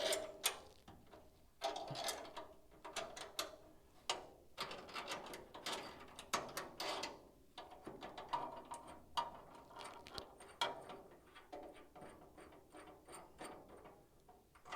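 A ratchet wrench works bolts loose in a garage, its quick pawl clicks coming in repeated bursts with short pauses between them, fairly close, and nobody speaking.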